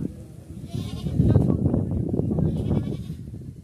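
Goats, including Barbari and Beetal breeds, bleat repeatedly at a crowded goat market in Punjab, with several overlapping calls nearby over a busy background din.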